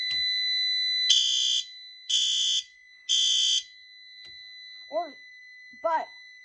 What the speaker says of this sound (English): So this is what most fire alarms sound like in most schools.